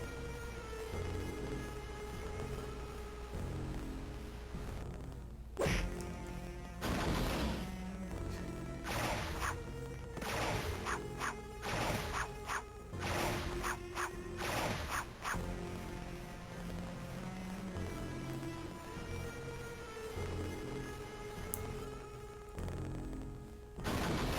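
Fireworks burst in The Grim Adventures of Billy and Mandy video game, a rapid cluster of sharp cracks and bangs layered over steady game music, with scattered blasts before and after.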